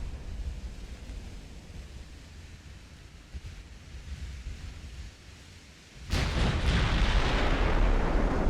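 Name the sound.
9-inch naval gun fire in Ultimate Admiral: Dreadnoughts video game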